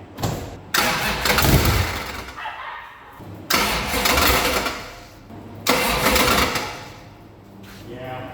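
A burnout car engine is started repeatedly: three very loud, close cranking-and-catching bursts, each swelling into a rough roar, then fading before the next attempt.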